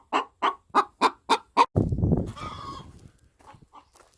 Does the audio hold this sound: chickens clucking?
yes